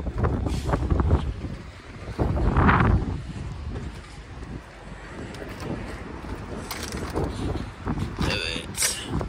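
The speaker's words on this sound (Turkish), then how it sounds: "Çok rüzgar var." Strong wind buffets the microphone outdoors beside a Ford F-Max truck while AdBlue is being filled, giving a loud, rumbling, gusty roar that surges and eases throughout.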